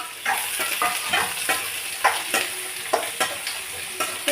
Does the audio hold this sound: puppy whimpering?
no